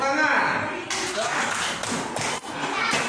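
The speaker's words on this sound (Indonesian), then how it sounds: "Tepuk tangan." Classroom students clapping their hands together, a dense burst of claps with a sudden start and raised voices mixed in, fairly loud and close.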